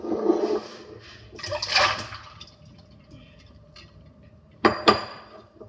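Liquid from a freezing fidget toy is poured into a sink, heard as short splashy gushes and trickles, with a louder final splash near the end.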